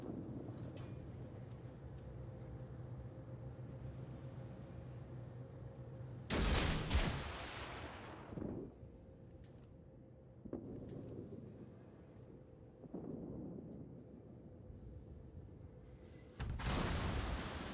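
Ship artillery in World of Warships booms in several heavy blasts, the first loud and long with a rolling decay and a last one near the end, over a steady low engine hum and no speech.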